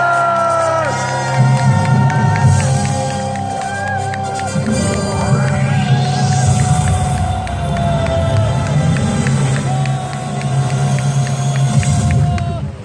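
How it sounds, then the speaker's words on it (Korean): A crowd of local residents claps and cheers at a candlelight protest rally against a waste landfill, loud, sustained applause and shouts mixed with music and a voice over a loudspeaker. "주민 여러분의 힘찬 박수 함성으로 시작하겠습니다"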